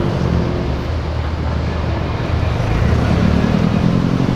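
Subaru WRX engine roars loudly and steadily close by as the car accelerates, the dense rumble swelling slightly toward the end with no talk over it.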